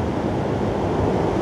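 Big ocean waves surge and break on a rocky mussel-foraging shore in rough water, a loud continuous roar of surf mixed with wind buffeting the microphone.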